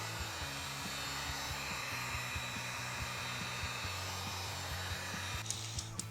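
A heat gun blows steadily and loudly, warming a brake caliper before primer is applied, with a constant airy roar and hum throughout and a few faint clicks near the end.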